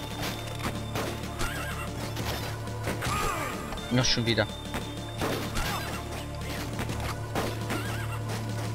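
A horse whinnies sharply amid clip-clopping hooves and crashing action in the Wild West shooter game A Fistful of Gun, with someone speaking briefly over the game sounds.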